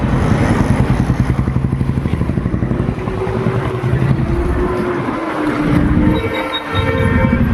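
A train running past, a loud, steady low rumble with mechanical droning and rattling that carries on throughout.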